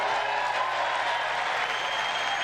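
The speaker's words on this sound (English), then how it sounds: "And, yeah, some of them are clapping." Scattered applause from members of the House of Representatives during a State of the Union address, a steady broadband patter of many hands held at a moderate level throughout, with no voices standing out.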